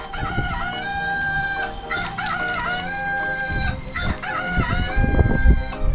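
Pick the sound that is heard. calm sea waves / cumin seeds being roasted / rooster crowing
rooster crowing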